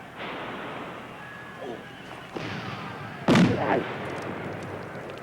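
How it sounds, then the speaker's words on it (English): Battlefield gunfire and artillery in a 1969 war drama set in an old-time battle, with a long rumbling barrage, a few distant booms and one loud close blast near the end. "2 bleeding hours we've been here under fire"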